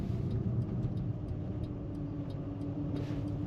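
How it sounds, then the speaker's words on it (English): A 1999 Porsche 911 Carrera Convertible engine hums steadily from inside the cabin, a smooth low rumble with no talking. "Today we're driving a 1999 Porsche 911."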